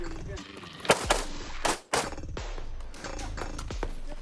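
M90 rifle gunfire at a local 2-gun shooting match, with several sharp shots cracking out in uneven succession over outdoor background noise and faint voices.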